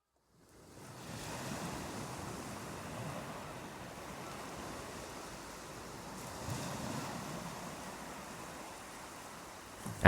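Pacific Ocean waves crash along the Big Sur coast below the Santa Lucia Mountains, a broad, steady roaring surf with gentle swells in intensity and some wind across the microphone.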